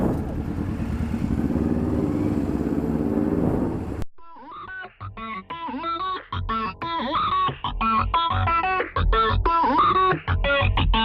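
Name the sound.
riding a Kawasaki ZZR250 motorcycle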